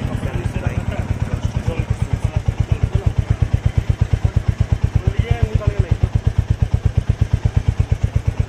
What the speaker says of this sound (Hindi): यहाँ से आप इसके एग्जॉस्ट के नोट को सुन सकते हो